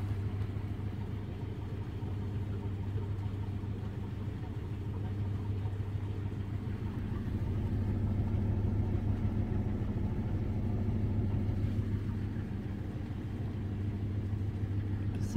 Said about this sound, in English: This is going to be the most craziest, most unbalanced spin I've ever seen any Samson do.